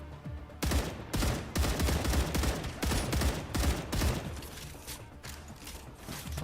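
Rapid bursts of video game gunfire from enemies in StarRupture, loud and near, clustered volleys repeating across the whole stretch with brief gaps between them.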